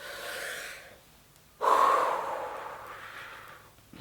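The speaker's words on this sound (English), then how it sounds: "Have a few big breaths." Deep breaths taken during a calming exercise: a long audible exhale, a pause, then a sharp, close inhale that trails off slowly, with no talking.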